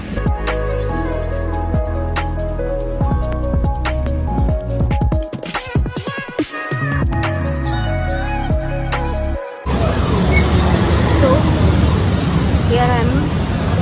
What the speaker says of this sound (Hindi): rush, traffic